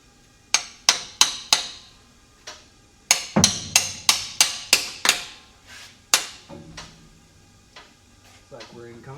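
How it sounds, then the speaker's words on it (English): Sharp metallic taps from a small hammer striking a part on a 1969 GMC truck, close and crisp, coming in quick clusters of several blows with short pauses between. "Tap on it. A little hammer time."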